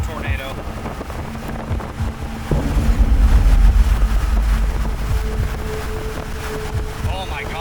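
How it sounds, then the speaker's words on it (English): A massive wedge tornado at night near Enderlin, North Dakota, rumbles as a loud, continuous wind roar that swells heavier partway through, with turbulent buffeting, and brief voice-like sounds come through the din. "an absolute monster of a tornado is in progress. Massive tornado."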